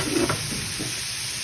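Pork bones stir-fried in a pan, a loud continuous sizzle with a brief scrape of stirring early on, close up and without speech.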